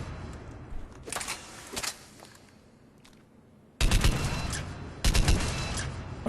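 Argus burst rifle fired in Mass Effect 3 during target practice: scattered quieter bursts at first, then two loud, close clusters of rapid shots with brief gaps between.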